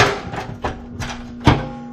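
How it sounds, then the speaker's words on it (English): A hammer strikes a dolly on a steel custom truck bed in about four sharp metallic blows spread across a couple of seconds, the last one loudest and near. "A little more hammering and dollying"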